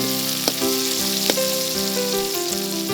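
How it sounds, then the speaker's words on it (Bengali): Onion, chili and garlic frying in hot oil for a Chakma bamboo-shoot dish, a steady close sizzle with faint clinks of stirring throughout. "তেলে এখন ভাজা হবে পেঁয়াজ, মরিচ, রসুন।"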